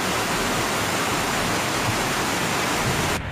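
Floodwater rushing over a bridge during a heavy storm in El Oro, a loud, steady broadband roar like a torrent that holds without letup and cuts off abruptly at the end.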